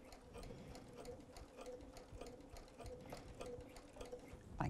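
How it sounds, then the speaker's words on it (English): Sewing machine running across the bottom of a fabric shopper tote, a quiet, steady rapid ticking of stitches throughout, faint and close. "Now I'm going to sew back across the bottom of this because I need to get to this bottom corner."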